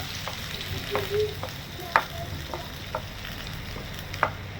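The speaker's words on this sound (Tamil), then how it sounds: "அந்த எண்ணெயில் நம்ம ஒரு பெரிய சைஸ் வெங்காயம் வெட்டி எடுந்தோம்ல, அதை போட்டுடலாம்" Large chopped onion dropped into hot oil, frying with a steady low sizzle and a few light clicks of a spoon, close and fairly quiet, no one talking.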